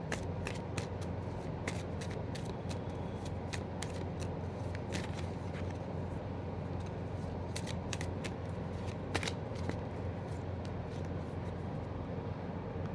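Oracle cards are shuffled by hand, close up, with a continuous papery riffle and soft, irregular snapping clicks that run steadily throughout, with no talking.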